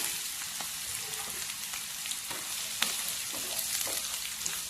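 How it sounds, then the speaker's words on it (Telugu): Carrots and green chillies fry over a low flame in a pan, a steady soft sizzle with occasional crackles and light stirring scrapes, close and alone with no voices. "కొంచెం స్టవ్ తక్కువ పెట్టుకొని వేయించుకుందాం. పచ్చిమిర్చి కూడా వేసుకుందాం. క్యారెట్ వేసుకుందాం."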